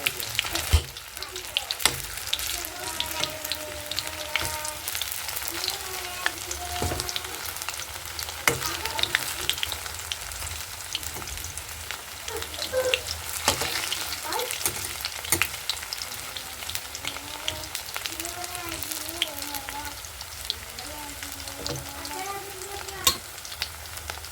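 Steady oil sizzling and bubbling as cauliflower pakoras deep-fry, with occasional scraping stirs and soft background music throughout.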